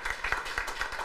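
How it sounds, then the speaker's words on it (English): Brief, fairly quiet clapping from an audience at a research seminar, a few hands clapping in an uneven patter over about a second. "So big round of applause to all the organizers"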